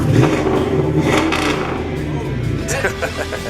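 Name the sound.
classic muscle car V8 engine rumbling and revving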